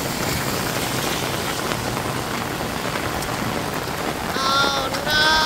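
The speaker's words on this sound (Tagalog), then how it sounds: "Grabe ang ulan." Heavy rain pours steadily during Typhoon Aghon, a dense continuous hiss close by, with a few faint bird chirps rising near the end.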